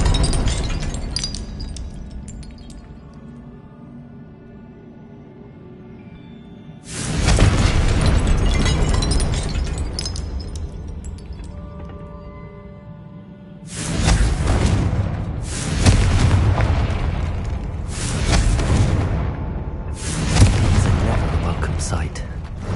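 Confringo spell explosions in Hogwarts Legacy, several loud, close, crackling blasts bursting one after another with quiet gaps between, amid game ambience and a voice casting spells.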